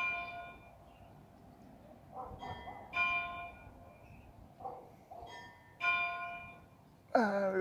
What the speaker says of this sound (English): We've got some sort of a bell going off somewhere.